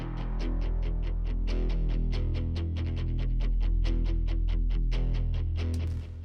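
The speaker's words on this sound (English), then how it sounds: "we have the rhythm guitars, which come in as well" Overdriven rhythm guitars, double-tracked and panned hard left and right, chugging a fast, tight palm-muted riff with steady repeated attacks, loud and alone for several seconds before cutting off.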